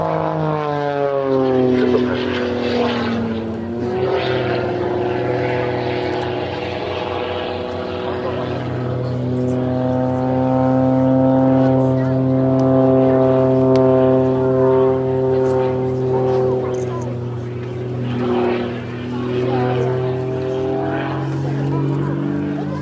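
At an airshow, a single-seat Pitts S2A aerobatic biplane drones with a loud propeller engine note that rises and falls as it manoeuvres, with a commentator talking over it throughout.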